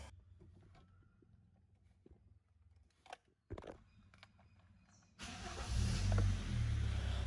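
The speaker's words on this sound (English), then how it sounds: "And let's start the car." A Hyundai Tucson iX35 with an emission fault is started: quiet clicks and a brief starter crank give way to the engine catching and settling into a steady, louder idle nearby.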